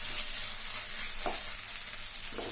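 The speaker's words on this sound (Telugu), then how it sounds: "ఒక్క స్పూను అల్లం వెల్లుల్లి పేస్ట్ వేద్దాం చూడండి ఇది వేసి చక్కగా దీన్ని కూడా పచ్చి వాసన దాకా వేయించడం" Ginger garlic paste fries in oil with a soft, steady sizzle and occasional light stirring taps, fairly quiet and continuous throughout.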